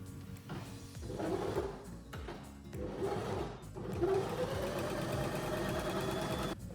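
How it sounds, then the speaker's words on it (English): A home sewing machine hums and whirs in uneven bursts, sewing a 3mm zigzag overcasting stitch along a fabric edge, close and fairly quiet, with no talking. "So like I said, 3mm zigzag stitch for overcasting."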